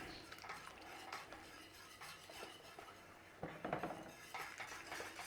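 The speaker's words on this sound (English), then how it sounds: "we're going to stir in our cream" A spoon working cream into a thickening cheese and beer sauce for traditional Welsh rarebit in a pan, quiet repeated scraping and clinking strokes against the pan with a faint sizzle underneath.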